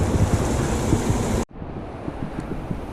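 White water rushes steadily in the Truckee River in California, a loud broadband roar that cuts out abruptly at the midpoint and returns softer, with a low rumble of current throughout.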